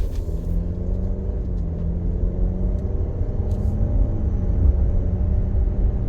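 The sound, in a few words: Alfa Romeo Stelvio SUV driving on road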